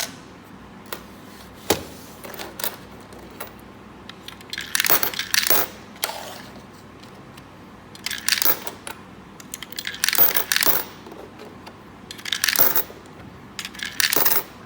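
Old and new coins dropped one at a time into a 6-slot coin-operated machine, sharp close metallic clinks and rattling clusters spaced irregularly with brief pauses, no voices.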